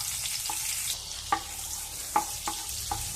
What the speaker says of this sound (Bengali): কড়াইতে আমি আরও খানিকটা বাটার দিয়ে দিলাম।